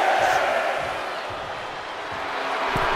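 Arena crowd noise from the WWE 2K24 video game during a Triple H versus Rey Mysterio wrestling match, a steady, loud roar of cheering spectators with scattered thumps underneath, filling the whole stretch.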